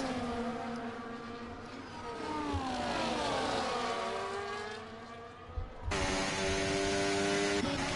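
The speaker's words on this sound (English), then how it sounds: "You can hear that car on the rear searching for traction, wheel spill, wheel spin, and then it hits." A Formula 1 car in an esports racing game at the Imola Grand Prix revs and wails as its rear wheels spin for traction, the engine pitch sweeping up and down before a louder steady note cuts in near the end.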